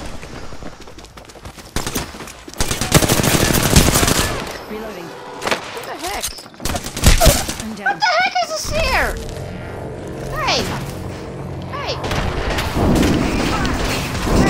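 Apex Legends gunfire: loud bursts of automatic shots and booms come in clusters early on, then scattered shots and game effects continue while a player talks.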